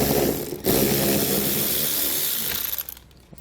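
Ratchet or power tool backing out 8mm fasteners from a car's front wheel well liner: a loud, steady mechanical whirring and clicking that runs close-up for about three seconds, then drops away near the end.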